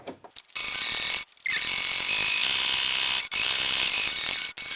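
A sewing machine stitches through a layered fabric pot holder, its needle mechanism whirring in steady rapid runs broken by short pauses, close and clear.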